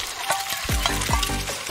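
Pancake batter sizzles and crackles in a hot pan, a continuous frying hiss with a few gliding, sputtering pops close by.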